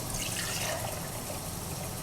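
Soaking water is drained off lentils, pouring and trickling steadily, a continuous splashing wash of liquid with no voices.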